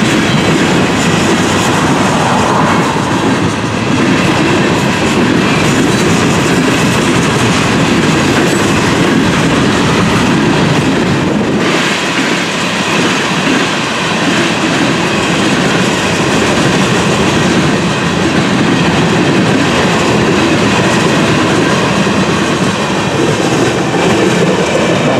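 A freight train with tanker cars passes on a bright sunny afternoon, making a loud, steady rumble with rail clatter that stays close and continuous throughout, with no talking.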